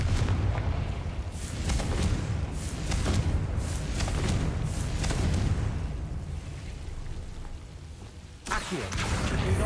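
The Confringo spell in Hogwarts Legacy sets off heavy, booming blasts, a rolling series of loud low rumbles and crackling impacts close by, ending with a sharp fresh burst.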